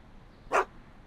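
A single short, sharp bark from the dog Einstein in the Back to the Future video game, heard alone over quiet background.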